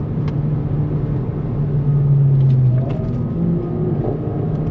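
A 2024 Honda Civic Si with a manual clutch driven on the road, its engine giving a low steady rumble that rises slightly in pitch for a moment as it accelerates, heard close from inside the cabin, no voices.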